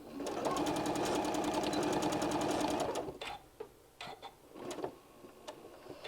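A sewing machine back tacks a bean bag seam, a fast even mechanical stitching whir for about three seconds, then stops, followed by scattered clicks and handling sounds of fabric and machine parts.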